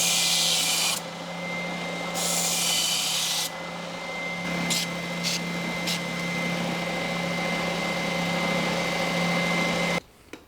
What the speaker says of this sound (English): I'm just going to tar up this bit of brass and make it look a bit prettier. On the sander.